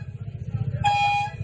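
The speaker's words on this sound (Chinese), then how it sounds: "把机车喇叭当乐器，照着节拍狂按" Outside a school gate at night, a horn on a motorcycle blares in a loud sustained honk after a rhythmic low rumble of idling engines, close by.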